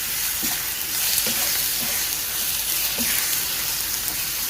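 Makhandi halwa mixture of semolina being fried and stirred in a pan, a loud continuous sizzle broken by occasional scraping strokes of the spoon, with no voices.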